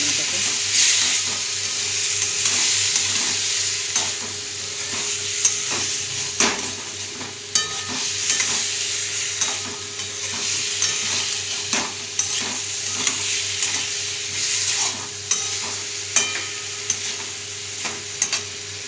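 Potato and soya chunk curry fries and sizzles in a pan while a spoon stirs it, a steady hiss broken by repeated scraping and knocking taps against the pan, close and moderately loud with no voices.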